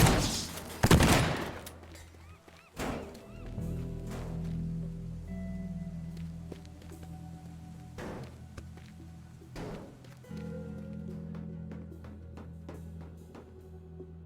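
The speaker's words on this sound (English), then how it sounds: "Love them shitty pipe bombs." Pipe bombs in the video game Teardown go off in a loud opening burst, followed by several more scattered explosive thuds and crackling debris, with a low rumble underneath.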